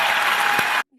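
A short burst of audience applause, dense and steady, cut off abruptly after under a second.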